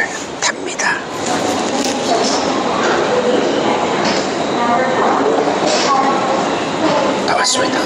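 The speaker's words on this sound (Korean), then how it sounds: "드디어 기차가 도착했습니다." Train pulling into a long station platform, a loud rumbling and rattling roll with clacking wheels and scattered screeches, with talk over the noise.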